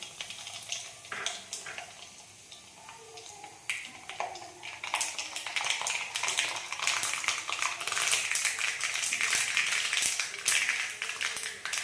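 Mustard seeds and dried red chillies splutter in hot oil, the sharp popping growing denser and louder until it becomes a constant crackle, with a voice talking over it.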